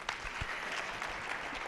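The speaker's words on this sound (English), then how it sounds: "can we please give a standing applause and ovation to our special guest?" A short burst of dense applause from an audience honouring a guest speaker at a university event, steady clapping filling the moment with no talk over it.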